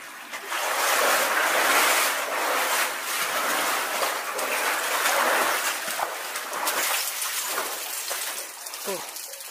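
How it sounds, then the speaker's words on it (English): Heavy water rushes behind a wall deep in an underground mine, like a waterfall: a continuous broad roaring hiss, loud and steady from start to finish, with faint knocks and scrapes nearby. "Sounds like there's a waterfall and loads of rushing water behind it."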